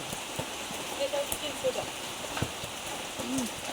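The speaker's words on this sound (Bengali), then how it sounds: "বৃষ্টিতে কি অবস্থা" Rain falls steadily around a house, a constant soft patter on surfaces, with occasional faint voices and small knocks mixed in beneath it.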